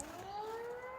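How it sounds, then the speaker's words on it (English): A fire station siren sounding on test day in Australia, a steady rising wail heard from a short distance away, alone and clear. "fire siren test day."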